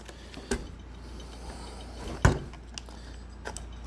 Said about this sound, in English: Let's close this bolt